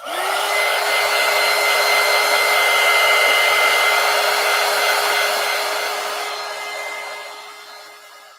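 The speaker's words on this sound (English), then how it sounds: "Let me dry it a little more." A hair dryer blows steadily and close over wet watercolor paint in a coloring book, a loud constant whir that winds down and cuts off near the end.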